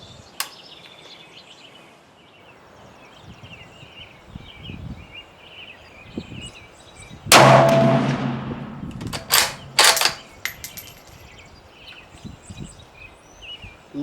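A Ruger American Ranch Rifle in 7.62x39 fires a single sharp, loud shot outdoors on a warm day, echoing briefly, followed by a few quieter sharp knocks over steady birdsong and rustling.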